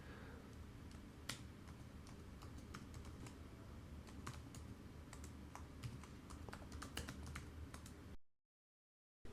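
Fingers tap out an Excel formula on a computer keyboard, with quick, irregular key clicks up close over a quiet room, ending in sudden silence.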